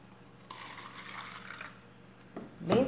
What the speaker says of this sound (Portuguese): vou dissolver um pouquinho de água